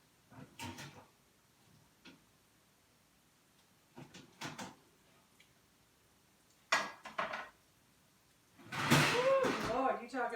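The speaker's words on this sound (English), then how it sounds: "We're going to get those out of the oven." A metal baking tray of cheesy keto food topped with Parmesan is taken from a home kitchen oven, heard as scattered knocks and clunks, then a loud, close metallic clatter and rattle near the end.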